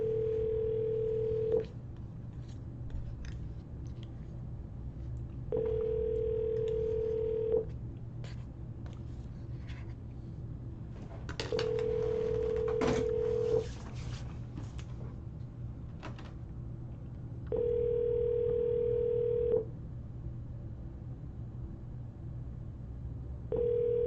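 An outgoing phone call to a house seller in Houston, Texas, rings unanswered: the ringback tone repeats in evenly spaced bursts of about two seconds each, five times, over a steady low background hum.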